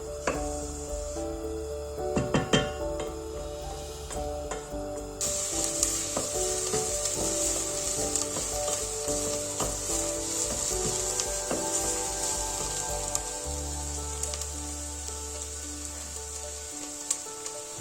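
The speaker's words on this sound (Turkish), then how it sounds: "Doğramış olduğum iki tane kuru soğanımı küçük küçük e, yağımda kavuracağım." Two chopped dry onions sauté in olive oil in a pot, a steady soft sizzle with occasional stirring scrapes and clinks, close and fairly quiet.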